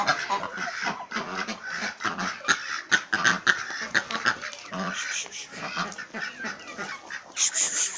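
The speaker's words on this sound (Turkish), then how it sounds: "Bir de 10 tane ördeğim var. Onlar da Pekin ördeği" A group of Pekin ducks quacks and honks continuously nearby, the loud calls overlapping in a busy, unbroken chorus.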